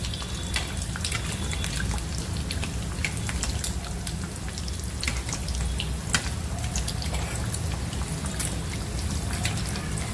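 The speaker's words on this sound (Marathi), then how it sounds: "तेलाची आंघोळ घालायची याला" Hot oil is spooned over pav vada frying in a pan, making a dense, close crackling sizzle with constant pops and spatters that hold steady throughout. No talking.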